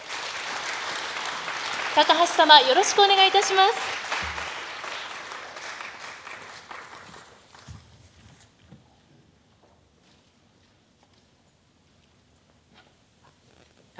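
A lecture audience at the Aizu festival history talk claps to welcome a prefectural museum curator. The applause starts full, someone speaks briefly over it, then it thins and fades into near silence.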